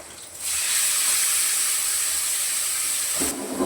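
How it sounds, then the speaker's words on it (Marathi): Chopped onion and tomato hit hot oil for a capsicum curry, bursting into a loud, steady steam-like sizzle that holds strongly for about three seconds before easing off, with no talking. "मी तेलामध्ये टाकते कांदा टमाटा दोन्ही पण"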